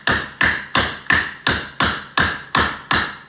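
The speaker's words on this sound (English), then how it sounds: "I'll probably use the flat bar, pry bar here. Get it right there on the corner." Nine evenly spaced sharp metallic taps ring out as a flat pry bar is struck against old brick on a fireplace, close and loud with no talking.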